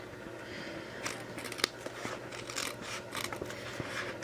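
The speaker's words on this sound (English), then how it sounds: "I'm going to trim off, I'll go with these little scissors." Small scissors snip repeatedly in quick, close clicks with light papery rustling between cuts.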